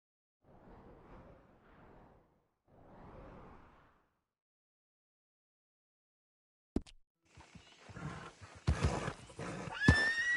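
Horse in a video game lets out a couple of soft, fairly distant whinnies, then after a pause sharp clatter and scuffling bursts of game sound follow, growing louder toward the end.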